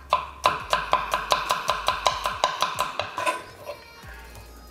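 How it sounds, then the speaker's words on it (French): Garlic chopped coarsely with a knife on a board, a fast, even run of about twenty crisp close knocks over three seconds, then a pause before a final tap; no talking. "L'ail, on ne va pas le couper trop finement."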